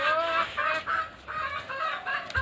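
Local hens kept on a farm in Sorbhog, Barpeta, Assam cluck in a steady, close chorus, with repeated short calls rising and falling over the whole stretch.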